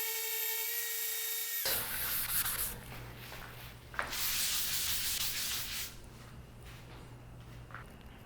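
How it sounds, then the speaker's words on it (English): Steady abrasive rasping of a sander working over epoxy-filled knots in a wooden tabletop, beginning abruptly after a brief opening tone and continuing close and loud with a low motor hum beneath, one sharp knock midway. "I still have a lot of sanding to do on this tabletop to get it all even and flat"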